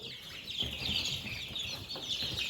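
Young chickens about three weeks old, a small flock clucking and peeping in a busy overlapping chorus, close and fairly quiet, with a few scuffles in the background.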